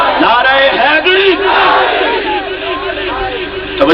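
A large religious gathering responds to a preacher's call with the Nara-e-Takbeer slogan, many voices shouting together in a loud, sustained unified roar that carries through the whole moment.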